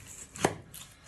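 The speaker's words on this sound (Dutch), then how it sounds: "Ik snij met mijn mes." A single crisp knife chop through vegetables for soup on a cutting board, close and sharp against a quiet kitchen background.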